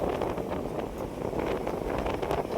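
Strong wind blowing dust along a roadside, a continuous loud rushing buffet across the mic with no pauses or voices.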